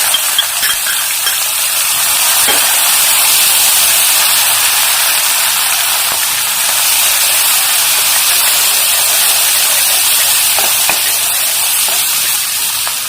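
Ginger-chili paste dropping into hot oil with cumin and asafoetida, giving a loud, steady hiss that runs unbroken and close throughout, with faint clicks now and then and no voices.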